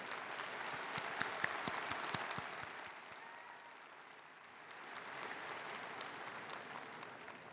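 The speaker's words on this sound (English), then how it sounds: "I think that deserves an applause of gratitude." Applause from a large audience at a university undergraduate commencement ceremony, a fairly faint, even wash of many hands clapping that dips briefly in the middle before swelling again.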